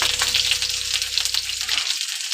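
Chopped green chillies sizzle and crackle in hot oil in a pan, a close, steady hiss of frying with small popping bursts, no voices.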